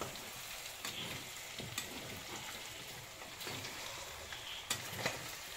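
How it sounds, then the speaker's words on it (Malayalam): Onions sautéing in a pan for chicken curry, a soft continuous sizzle with occasional faint crackles and clicks, fairly quiet and without talk. "അവിടെ അപ്പോഴത്തേക്ക് സവാളയൊക്കെ വഴറ്റി വരിക."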